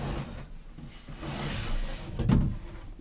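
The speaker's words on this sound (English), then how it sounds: "I just made some drawer slides using some wood strips on the bottom here with some beeswax" Wooden drawer sliding on beeswaxed wood strips along wooden tracks, a soft continuous rubbing glide with a duller thump near the end as it stops, close by with no talking.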